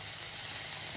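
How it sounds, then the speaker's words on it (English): Shredded birria beef in its sauce sizzles in a pan with avocado oil, a steady, dense, hissing crackle that is close and fairly loud, with no talking over it. "That nice sizzle."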